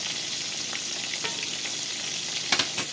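Coated chicken wings fry in hot oil with a busy, continuous crackling sizzle, and a few sharper clinks and pops come near the end.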